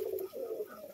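An Andhra pigeon coos softly and closely, a brief pair of low rolling coos heard alone.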